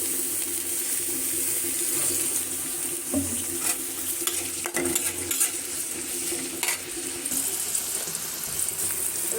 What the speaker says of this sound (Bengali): এখানে আমি কড়াইয়ের মধ্যে রসুন কুচি আর পেঁয়াজ কুচি দিয়ে নিয়েছি।